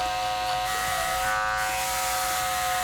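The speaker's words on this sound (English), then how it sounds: "we're back to clipper all the way closed" Hair clippers buzzing steadily and close up during a fade haircut on straight hair, a continuous electric hum with no break.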